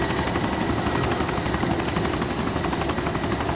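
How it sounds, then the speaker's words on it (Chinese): Helicopter in the video game DayZ, a constant thudding rotor drone with a dense low rumble that holds steady and loud without fading for several seconds, alone with no talk over it. "咦，天上有直升机？"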